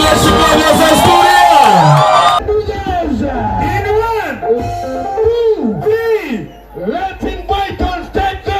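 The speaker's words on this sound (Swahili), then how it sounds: "Wapi makofi ya Mheshimiwa Moses Kuria? Wapi kelele ya Mheshimiwa Moses Kuria?" A crowd at a Mugithi music event cheers, whoops and yells, with noisy music at first, then an announcer's amplified voice carries on over the continuing crowd noise.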